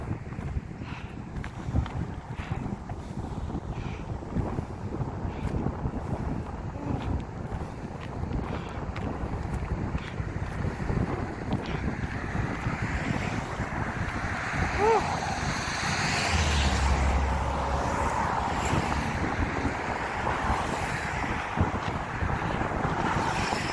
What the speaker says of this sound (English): The wind kind of takes your breath away.